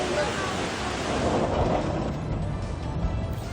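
Strong current of floodwater rushing through a flooded neighbourhood in La Union during heavy low-pressure rains, a continuous loud broadband roar and wash with no distinct breaks.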